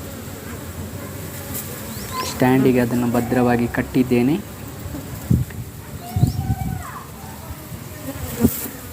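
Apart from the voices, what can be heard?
honey bees buzzing around hive box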